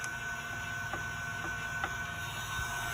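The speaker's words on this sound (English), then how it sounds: "turn the vacuum pump off" A vacuum pump runs steadily on a car's A/C system, a constant mechanical drone with a tonal hum and a few faint clicks, close and continuous with no talk.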